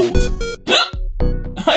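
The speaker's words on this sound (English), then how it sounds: "I got the hiccups." A person hiccuping several times in quick succession, close and loud, with short voiced bursts separated by brief gaps.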